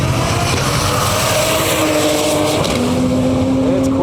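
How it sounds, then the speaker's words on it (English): An all-wheel-drive Ford Falcon with a Barra engine races past in a roaring, high-revving blur, engine pitch climbing through gears with a shift midway, loud and close amid broad wind and crowd noise. "So this Falcon here in the left lane is all-wheel drive"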